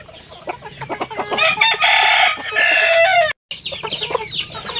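Stag roosters in a backyard farm cluck and let out loud, close crowing calls, the crows long and ringing, with a brief gap of silence before more clucking resumes.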